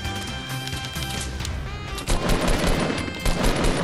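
Sniper rifle fire and heavy gunfire in a Fortnite match, dense overlapping shots building into a loud burst of rapid firing in the second half, with no talking.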